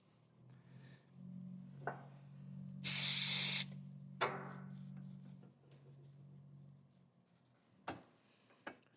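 Cleaner sprays onto the threads of a motorcycle sprocket mount in one loud, close hiss lasting under a second, surrounded by faint workshop handling, a steady low hum and a few sharp clicks.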